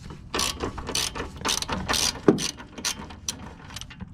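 A socket ratchet clicks in quick, uneven runs of close, crisp pawl ticks while loosening a bolt on a Tein coilover for an MK3 Toyota Supra, with no talking over it.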